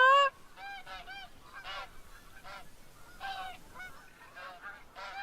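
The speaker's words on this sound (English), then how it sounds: "I hear the geese coming in." Geese honking in theHunter: Call of the Wild, a flock calling repeatedly in overlapping bursts, fairly close and clear over quiet wilderness ambience.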